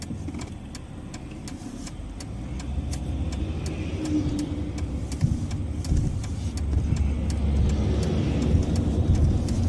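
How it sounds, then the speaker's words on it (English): A truck passes on a highway, heard from inside a moving car as a steady low road rumble and engine drone that swells slightly, with a faint rhythmic ticking throughout. "There goes the truck."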